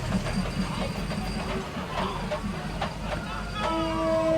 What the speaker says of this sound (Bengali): এখন 2:33 মিনিটে ট্রেনটা এই ট্রেন মার্কেট দিয়ে ক্রস করতেছে।